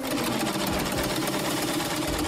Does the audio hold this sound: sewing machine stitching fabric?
yes